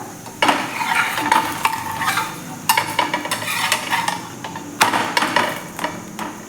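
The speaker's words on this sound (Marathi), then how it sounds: "इकडे आपले दुसरे थालीपीठ देखील भाजून होत आहे" Thalipeeth flatbread roasting on a pan for a fasting meal, with a steady soft sizzle and repeated scraping and tapping strokes in short bursts, close and fairly loud, with no talking.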